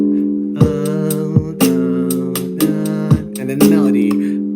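Sustained synth or keyboard chords from a Logic Pro song arrangement, struck in repeated blocks about every second and a half with percussive hits marking each change, loud and up front with no talking.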